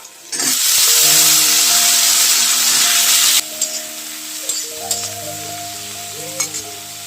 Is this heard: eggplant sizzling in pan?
yes